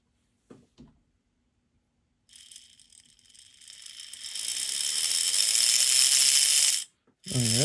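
The gear drive of a model train boxcab track cleaner runs up after two short clicks, a faint start building into a loud, steady, high ratcheting whir before stopping, then a brief final burst.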